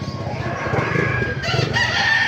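Chickens cluck and call continuously at a busy poultry market in Bocaue, with rooster crowing mixed into a loud, dense crowd of fowl noise.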